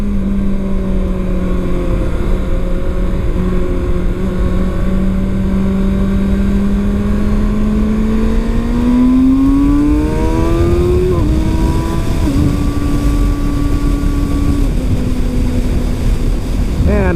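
A 2019 Kawasaki Ninja ZX-6R motorcycle accelerates on a freeway, its engine pitch climbing steadily then dropping at a gear change before climbing again, with heavy wind rush throughout and no talk.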